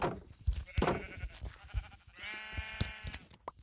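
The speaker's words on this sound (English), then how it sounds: "Ah, the different sheep." Sheep in the Minecraft video game bleat, a wavering harmonic cry rising over busy game sounds and thumps, with another short bleat near the start, loud and close.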